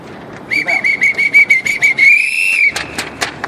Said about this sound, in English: If you see something, blow the whistle.